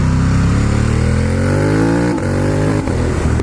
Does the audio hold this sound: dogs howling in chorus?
no